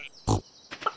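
A pig in the Stardew Valley video game gives a short, close oink grunt, followed by two fainter snuffling grunts against a quiet game background.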